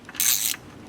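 A 10mm grid heater bolt is worked loose on a first-generation Cummins engine, producing a short burst of ratcheting wrench clicks, close and brief, then quiet.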